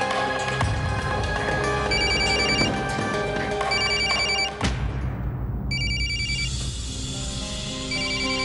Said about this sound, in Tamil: ரத்னாக்கு ஃபோன் பண்ணி பார்க்கலாம்.